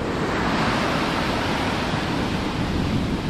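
Rough, choppy sea on the coast of Sardinia, a dense continuous roar of surf and wind with no distinct break pattern, close and fairly loud, no voices.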